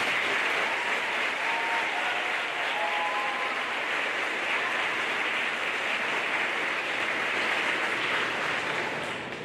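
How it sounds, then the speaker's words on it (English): Students at an 8th grade graduation celebration applaud their parents with steady, sustained clapping from a large group, loud and continuous for several seconds before tapering slightly at the end. "So you guys get to clap for your parents."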